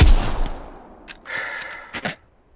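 Gunfire from the World War II shooter Hell Let Loose, opening with a heavy close shot that fades out, then a handful of scattered cracks and pops further off.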